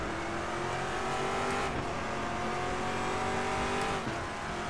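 Race car engine in RaceRoom Racing Experience, a steady high-revving drone held at full throttle throughout, loud and close with slight pitch shifts as the car runs mid-pack during a lap.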